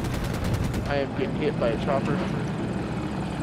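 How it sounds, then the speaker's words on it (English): Helicopter gunfire in a video game, a steady rotor-like roar with rapid shots rattling through it, loud and continuous, with voices talking over it. "I am getting hit by a chopper"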